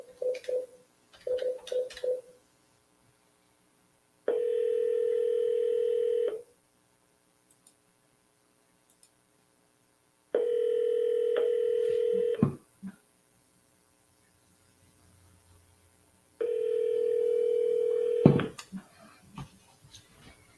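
Telephone tones on a call being forwarded to an automated voicemail system: a few quick keypad-style beeps, then three long steady ringback tones separated by silent gaps, each ending in a click.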